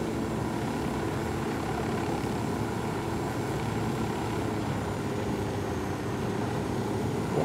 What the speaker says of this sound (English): Won't be able to do it with the helicopter.